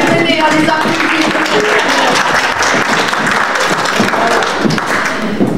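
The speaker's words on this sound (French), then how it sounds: "venez, on les applaudit" Loud, sustained applause at a general assembly of the Alpini association in Nilvange greets an arriving choir, a dense close-range crowd clapping steadily with a few voices mixed in.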